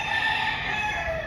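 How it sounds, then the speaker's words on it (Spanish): A rooster crows in one sustained, loud, close call that fills the whole short moment, with no voices over it, on a street in Cuba. "El gallo cantó."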